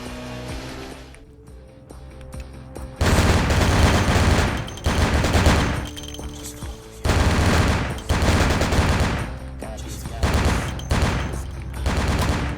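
Gunfire in the video game Vampire the Masquerade, loud sustained bursts of shots broken by short pauses, layered over a steady game soundtrack.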